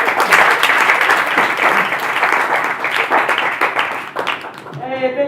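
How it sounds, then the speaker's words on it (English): Loud, dense applause and clapping from a comedy club audience after a stand-up set, sustained and close before thinning out, with a voice starting to speak near the end. "big round of applause for Matt"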